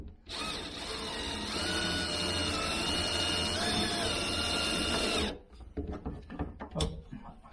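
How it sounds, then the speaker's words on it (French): A power screwdriver drives screws to fit a Carbest window screen and blind on a camping-car, a steady whirring run of about five seconds, then stops into quiet handling clicks and knocks. "et puis je vais visser doucement."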